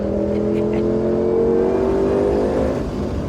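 A Ford GT500 accelerating hard at Ozarks International Raceway, a loud, close engine drone with strong harmonics that holds steady and rises slightly before easing off at the end.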